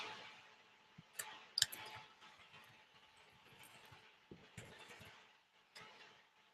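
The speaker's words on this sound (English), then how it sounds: "I'm typing in my text." Soft, scattered clicks of fingers typing text on a computer keyboard, faint and irregular, with a few sharper taps standing out against a quiet room.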